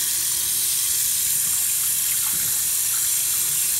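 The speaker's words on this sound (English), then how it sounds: "now we're gonna rinse." Tap water runs steadily and loudly into a sink while makeup brushes are rinsed under it, a constant close gushing stream with no voices.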